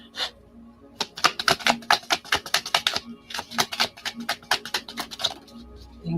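Tarot cards are shuffled by hand up close, giving rapid bursts of crisp, papery clicks in quick uneven runs with short pauses, heard alone and fairly quiet.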